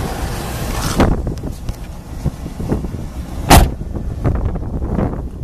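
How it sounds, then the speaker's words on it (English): The door of a 1975 Pontiac Firebird Formula shuts with a solid close-up thunk partway through. A softer knock and some rustling handling noise come before it, and no one talks. "Door shuts nice, lines up good."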